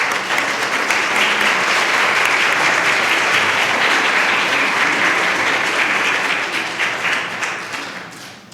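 Loud, dense audience applause fills a hall to welcome the artist Kimsooja at an evening artist talk, steady throughout and tapering off near the end.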